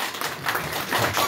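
Audience clapping at a project inauguration ceremony in an upazila council conference room in Rangunia, a dense patter of many hands close by, steady for over a second with no talk over it.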